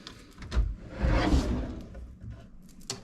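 A desk drawer in a hotel room slides open with a wooden scrape and thump, followed by further rolling and knocking sounds and a sharp click at the end.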